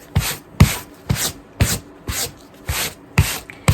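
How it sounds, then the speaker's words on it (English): A stiff bristle brush sweeps dust off a costume skirt in about nine brisk, evenly spaced strokes, each a close, loud scratchy rasp. "Now I'm using the stiff bristle brush, okay?"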